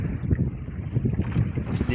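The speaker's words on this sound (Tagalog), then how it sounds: "medyo lumakas yung hangin mga ka-idol. Dahil sa subasko" Strong wind gusting during a rain squall at sea near Coron, roaring steadily and close into the microphone with low, buffeting rumble throughout, carrying no speech.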